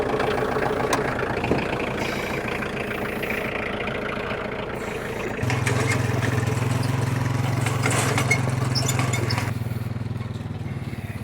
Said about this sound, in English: it's time to get the tractor fired up